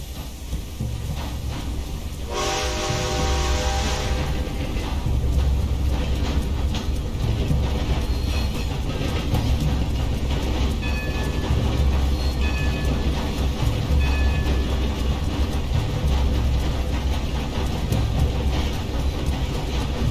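A train starting up and running in a Western-themed game, a sharp steam hiss and whistle-like burst, then a steady loud rumble and rhythmic clatter of wheels on rails continuing throughout.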